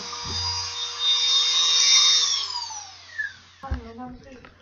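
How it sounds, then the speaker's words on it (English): A high-pitched power drill whines steadily up close while carving a gourd, then winds down and stops, followed by brief handling knocks and a low voice. "I'm finished with the drilling bit."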